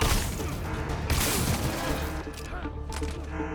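Rapid, dense gunfire from the video game Marvel's Spider-Man, loud and continuous, with sharp bursts and crashing impacts layered over a busy game soundtrack.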